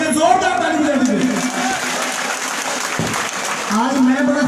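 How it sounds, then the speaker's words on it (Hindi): Applause from an audience at a devotional gathering marking a foundation day and birthday celebration, a continuous dense clapping throughout while someone speaks loudly over it. "एक बार दोनों हाथ उठा के मेरे भाई नवीन पंजाबी जी के लिए जोरदार ताली बजा दीजिए"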